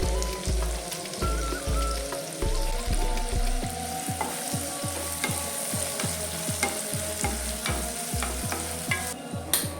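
Chopped onions fry in hot oil with spices, sizzling steadily up close while a spoon stirs and scrapes the pan in repeated rhythmic strokes.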